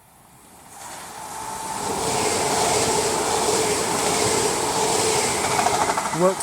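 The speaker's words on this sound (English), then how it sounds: "there's a freight train coming round" A freight train passes on the temporarily diverted West Coast Main Line at Gatley, building from quiet into a loud, sustained rumble and wheel roar with a brief squeal near the end.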